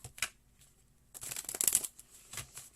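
Tarot cards are shuffled close by: a quick riffle, a pause, then a longer flurry of soft flicking and snapping, fairly quiet.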